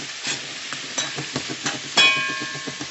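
Chicken pieces fry and sizzle steadily in a hot pan for Caribbean stew chicken, with repeated stirring scrapes and a louder burst of sizzling near the end, no talk.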